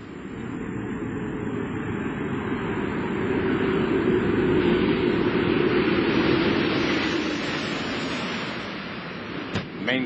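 Space Shuttle Atlantis touches down on a runway on return from the STS-122 mission, a broad, steady roar of rushing noise that swells in the middle and eases toward the end, with a faint thin tone above it.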